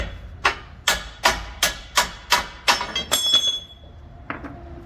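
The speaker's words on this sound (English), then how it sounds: "push this way, hammer this way, and it should come right out." Truck torsion bar on a Chevrolet Silverado 1500 HD being driven out with a hammer: about nine sharp metallic blows in an even rhythm, close and loud, followed by a faint ringing and a couple of lighter knocks.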